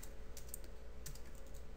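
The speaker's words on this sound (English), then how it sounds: "I'm going to type them pretty quickly" Quick typing on a computer keyboard while entering Java code: a faint, steady stream of light clicks and taps over a low background hum, with no voice.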